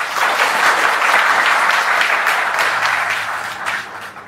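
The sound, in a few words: audience clapping for a successful student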